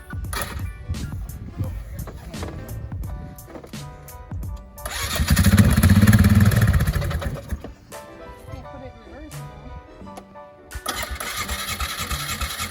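A Polaris Scrambler 500 quad being started, with a cranking engine catching and revving to a loud mid-pitched roar, then settling into a rough idle, close by, with people talking over it.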